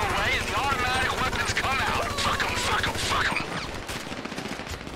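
Rapid bursts of gunfire in GTA Online crackle in quick succession, loud and close, while a voice talks over them amid other game noise.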